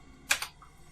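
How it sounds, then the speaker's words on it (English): A single quick double tap on a computer keyboard, soft and close in an otherwise quiet room. "Let me type that out."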